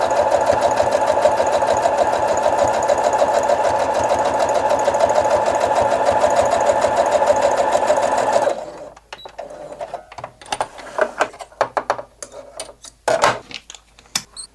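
A sewing machine stitches thin fabric strips for a scrap string quilt block. The rapid mechanical whirr runs steadily and loud for about eight seconds, then stops, leaving scattered clicks and handling noises.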